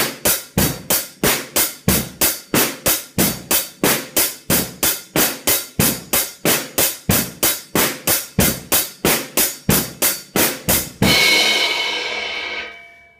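A basic rock beat played on a drum set, with a steady even pulse of kick, snare and cymbal hits about two per second, close and loud, ending on a ringing crash that fades out.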